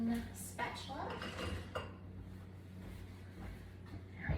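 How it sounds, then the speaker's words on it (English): A mixing spatula scrapes and clinks against a bowl of donut batter in a home kitchen, a loose run of soft knocks and scraping strokes, strongest early and fading toward the end. "There we go, let's give that a stir."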